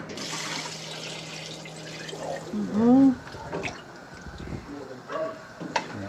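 Water is poured into a glass at a dining table, a short close trickle with a rising gurgle in the middle, while people talk around it.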